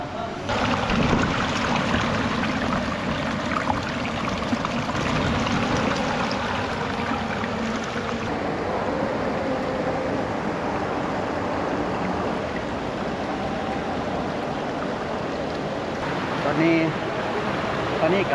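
A waterfall inside a cave gives a steady, loud rush of falling water that fills the whole stretch with unbroken broadband roar.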